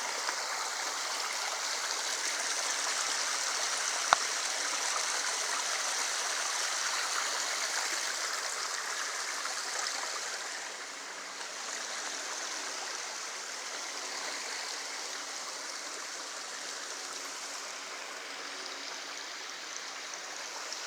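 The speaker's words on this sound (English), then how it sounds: "Look at this waterfall." A waterfall on a nature walk rushes in a steady, moderately distant hiss of falling water that stays unbroken throughout, with a single faint click partway through.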